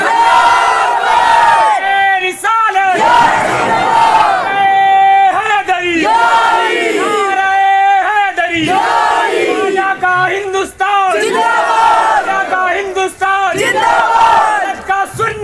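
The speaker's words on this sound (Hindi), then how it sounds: "देखो मियाँ जब नारा लगाओ तो खड़े होकर लगा दिया करो" A large crowd at a religious gathering in Kota, Rajasthan chants the Naara-e-Takbir slogan, with loud massed voices rising in repeated waves of call and response, a full, reverberant roar that carries through the whole stretch.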